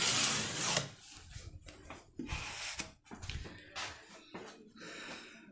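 Plaster smoothed down over tape with a trowel or knife to scrape away the excess: soft, uneven rubbing and scraping strokes, close and fairly quiet, each a second or so long.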